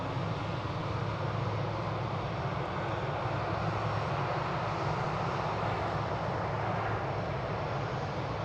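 An Airbus A321 arriving at DFW Airport on a flight from Cancun gives a steady, broadband jet engine roar that stays constant and moderately loud throughout, with no talk.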